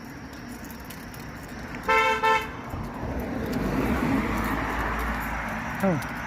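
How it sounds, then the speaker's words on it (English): A car approaches and passes on a town street at night in Harlan City, its engine and tire noise swelling and then fading. A short double horn toot sounds just before it arrives. "I had to get out of the middle of the road because there's another car coming"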